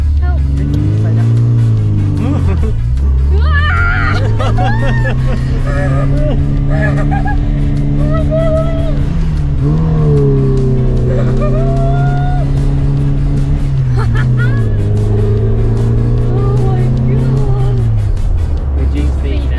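A classic Mini Cooper engine drones steadily as the car drives and accelerates, its pitch rising and falling through gear changes, loud and close throughout with people talking over it.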